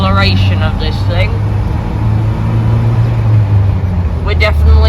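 A 1984 Land Rover 90 engine pulls steadily under acceleration up a slight incline, its loud, continuous low drone filling the cab with people talking over it throughout.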